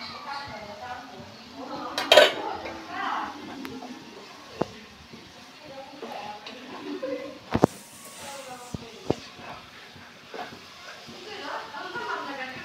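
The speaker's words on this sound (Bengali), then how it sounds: "দেখি এটাকে আমি একটু নেড়ে দিই।" A spoon stirs okra and other food in a cooking pot, giving scattered metallic clinks and scrapes, a few sharper knocks standing out, with people talking quietly nearby.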